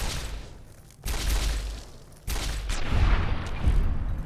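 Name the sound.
rifle gunfire in Fallout New Vegas video game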